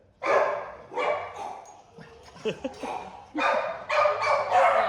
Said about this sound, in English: Are you barking as well?